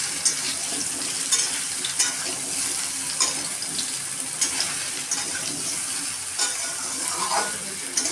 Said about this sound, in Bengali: এখন আমি আমগুলো ঢেলে দেব